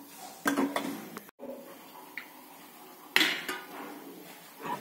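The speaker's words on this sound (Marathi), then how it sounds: "तर आपण कढई ठेवलेली आहे" A metal kadhai (wok) set down on a home kitchen stove while cooking pasta, giving a few sharp clanks and knocks, with a pause between them and no talking.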